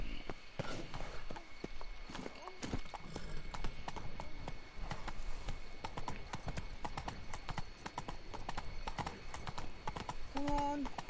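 Roach, the horse in The Witcher 3: Wild Hunt (Blood and Wine), trots with steady, close clip-clopping hooves over a game backdrop of ambient sound, ending with a brief whinny-like call.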